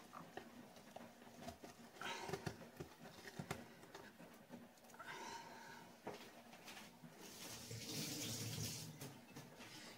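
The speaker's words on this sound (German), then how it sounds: "Ihr könnt die auch im Wasser, wenn sie noch nicht ganz getaut ist, im Wasser sauber machen." Tap water runs and splashes while a thawing Christmas goose is rinsed clean in a sink, a steady broad rush with intermittent louder splashes and bumps, growing fuller toward the end.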